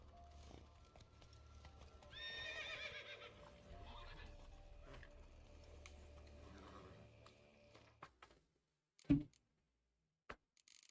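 Roach, Geralt's horse in The Witcher 3, whinnies loudly in the middle of a steady game ambience, then goes quiet, leaving a few sharp snorts and hoof knocks near the end.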